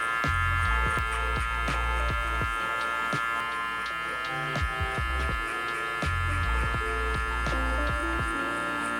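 Electric hair clippers fitted with a 1.5 guard, lever fully open, fade hair during a barber's burst fade: a steady close motor buzz runs throughout with repeated low thumps and ticks as the clipper moves, and no talking.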